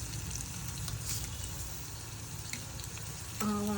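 Chana dal and urad dal sizzling steadily in hot oil for a tempering, a constant crackling fry with faint scattered pops and a brief clink near the end.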